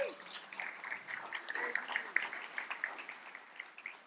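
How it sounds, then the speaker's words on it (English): Quiet, scattered applause for teachers at a leadership institute demo day, individual claps popping out irregularly over a soft bed of hand patter, fairly distant and thin. "Round of applause for all the teachers here."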